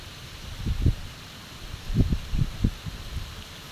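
Wind gusts through the trees of a backyard farm plot, with low buffeting rushes in short bursts over a steady soft hiss of moving foliage, and no one speaking.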